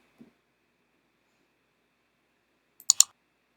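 A computer mouse clicks sharply a few times near the end of an otherwise silent stretch, with a faint tap near the start.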